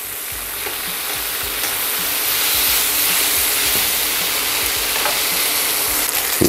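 Butter melting and sizzling loudly in a hot pan alongside jerk-seasoned burger patties, a steady close frying hiss with faint crackles and stirring throughout, no voices.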